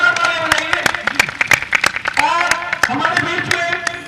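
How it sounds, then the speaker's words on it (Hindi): An audience at an evening Ramleela festival stage in Gurgaon, India, claps in a dense, ragged burst of applause throughout, with voices mixed in. "जरा जोरदार तालियां बजाइए।"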